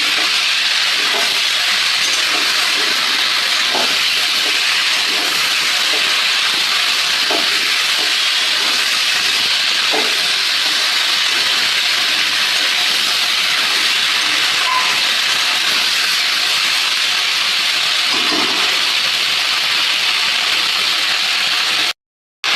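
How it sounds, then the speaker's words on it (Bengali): Chicken frying in a pan with ginger, cumin and coriander paste gives off a steady, even sizzling hiss, with a few soft stirring clicks. "এটা দিয়ে কষিয়ে নেবো ভালো করে মশলার সঙ্গে"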